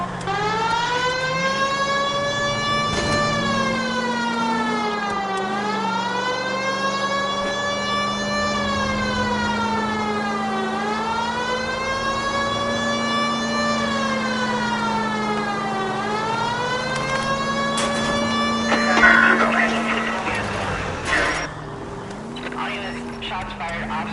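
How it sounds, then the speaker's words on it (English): A 1940s-era police car siren in the video game L.A. Noire wails continuously in a slow rising-and-falling cycle over steady engine hum, loud and close, while people speak over it. "We've got a siren for a reason."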